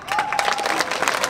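A crowd at a Latgale schlager music parade concert in Preiļi gives loud applause and cheers as a singer comes on stage, with dense, continuous clapping.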